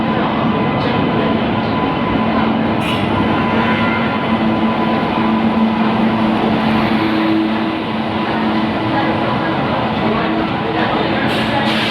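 A train rumbles steadily at a busy railway station, a loud continuous low roar of rolling wagons with a faint murmur of voices and brief higher clanks.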